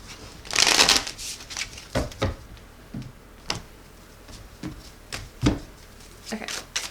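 Thick tarot cards being shuffled by hand, a close burst of riffling followed by scattered soft slaps and taps of the deck at an uneven pace, with no talking.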